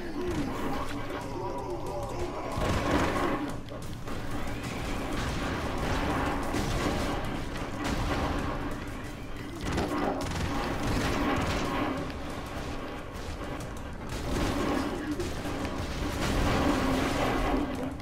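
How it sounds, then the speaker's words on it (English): Rocket explosions and gunfire in the side-scrolling action game Broforce, with dense, continuous booms and blasts layered under game music and a constant wall of noise, with no quiet gaps. "How my own rockets hit me"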